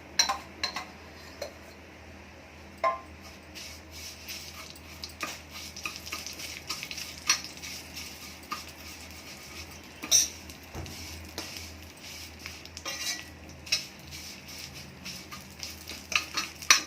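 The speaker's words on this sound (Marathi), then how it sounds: "पण आपण सोनेरी कलरच्या भाजून घ्यायच्या तुपामध्ये" Vermicelli roasting in ghee until golden while it is stirred in a pan: a quiet, steady sizzle under soft scrapes and light irregular ticks of the spoon against the metal.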